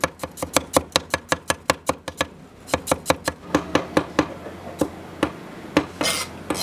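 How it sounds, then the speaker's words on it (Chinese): A knife chops garlic cloves on a cutting board, a steady run of sharp, close knocks about four per second with a brief pause midway, then sparser, uneven strikes and a final scraping rasp; no talk. "要再切3粒的蒜"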